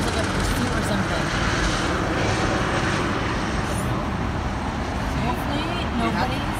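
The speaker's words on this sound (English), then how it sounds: "the helicopter keeps flying" A helicopter circles overhead above city traffic in Los Angeles during an apparent police pursuit, its steady rotor drone continuous and fairly loud, blended with road noise and voices talking nearby.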